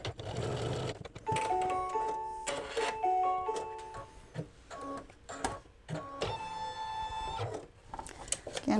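Embroidery machine stitching down a seam on an in-the-hoop mug rug, a rapid mechanical whirring run of stitches with tonal motor whine, pausing and restarting in bursts, close and fairly clear.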